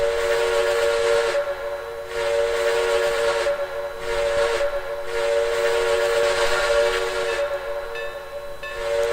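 A steam locomotive whistle, Norfolk and Western 422 in the Trainz simulator game, sounds in several long chime blasts with brief gaps between them, loud and close over a steady hiss.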